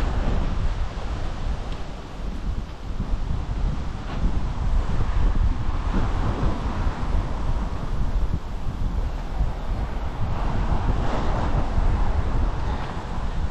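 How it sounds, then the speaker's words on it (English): Strong wind sweeps across Filby Broad, a lake in the Norfolk Broads beside a campsite, roaring steadily and buffeting the microphone with loud, continuous low rumbling for the whole stretch, with no voices. "Hopefully you can hear me because it's very windy here."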